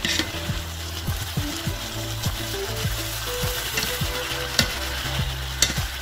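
Salt cod fries in a pan with a splash of vinegar, a steady loud sizzle under repeated scraping and clicking strokes of a utensil stirring the fish.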